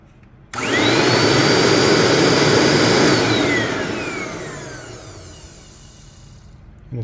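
Bissell Little Green Pro carpet cleaner switched on after a heater repair, a loud close motor whine that starts abruptly and holds, then gradually spins down as it is shut off.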